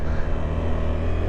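A KTM 390 Adventure single-cylinder motorcycle engine runs with a steady, dense low rumble, held at an even level with no clear revving.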